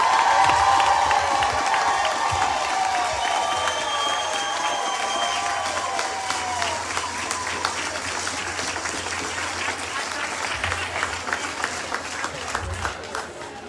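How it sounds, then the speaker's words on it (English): A town hall audience claps steadily at a moderate level, a dense patter of applause with some cheering early on. "Let's get another round of applause for Representative Beckley."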